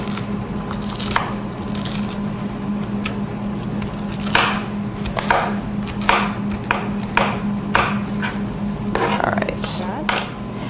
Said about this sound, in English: So do you want to finish cutting the squash while I start cutting the potatoes?